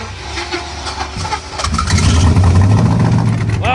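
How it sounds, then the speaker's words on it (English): A 4.8L V8 car engine cranks and catches, building from rough turning into a loud, steady, close idle with a low rumbling drone that dominates the second half. "Well, we got it back running,"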